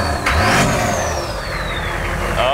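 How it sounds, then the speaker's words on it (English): A turbocharged 6.5L Humvee engine revs hard and close, with a loud mid-range roar and a whistling turbo spool that sweeps down in pitch as the revs settle. "You can hear the turbo spooling already."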